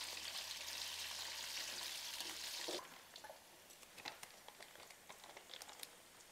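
Potatoes frying in oil give a loud, dense sizzle for a few seconds, then it drops away to scattered soft pops, clinks and light stirring sounds.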